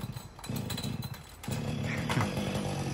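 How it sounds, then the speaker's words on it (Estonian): A chainsaw runs while cutting a tree from a lift basket during hazardous tree felling in Elva. The engine drones steadily, then revs louder and harder midway through the cut, with no talking. "Ja herra Helar seal üleval korvis, saeroolis."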